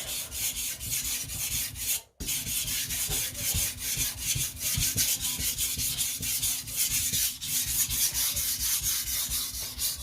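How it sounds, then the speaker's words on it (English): A shirogami knife blade with soft iron cladding is rubbed slowly across a whetstone at a low angle, giving repeated close, gritty strokes in a steady rhythm with one brief pause. "This I'm sharpening much slower."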